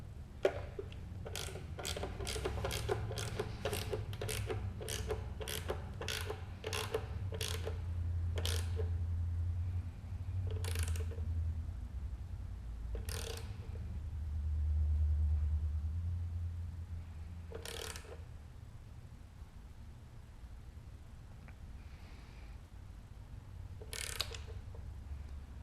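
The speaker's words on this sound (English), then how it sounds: "this wrench is really quiet, so man, it doesn't seem like it's getting tight" Ratchet wrench clicking while tightening a bolt during an LS engine swap on a Porsche 944: a fast run of sharp clicks that slows to spaced single clicks, close by over a low steady hum.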